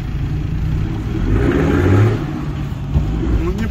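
A Toyota Land Cruiser 70 on big 38-inch Boggers drives off-road, its engine a loud steady rumble that swells as it climbs, with people talking over the noise.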